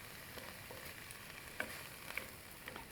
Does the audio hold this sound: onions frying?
yes